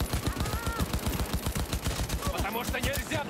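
Automatic turret in Cyberpunk 2077 firing a steady rapid stream of loud, close gunshots, roughly ten rounds per second, with no pause for the whole burst.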